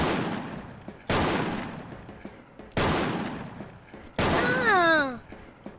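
Gunfire from the shooter game Wolfteam comes in three sharp loud bursts, each decaying with a reverberant tail, and the last is followed by a rising-falling whine, with a voice faintly underneath.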